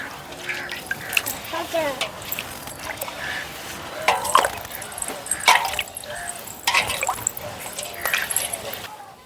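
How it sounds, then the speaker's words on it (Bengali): Lime (chuna) being stirred into water in a container, with sloshing, trickling and dripping splashes in uneven bursts close by, while a voice talks intermittently over the liquid sounds. "প্রথমে জলের মধ্যে চুনটা দিয়ে কিন্তু জলটা গুলিয়ে নিতে হবে"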